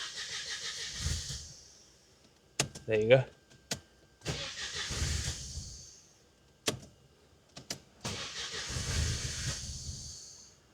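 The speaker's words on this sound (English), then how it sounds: "It's the first ever cranking that we're gonna do." A swapped Mercedes M111 engine in a Mercedes 190E cranks over in three separate bursts of starter whirring and hiss, heard from inside the car, with a few door-like clunks and a brief spoken remark between attempts.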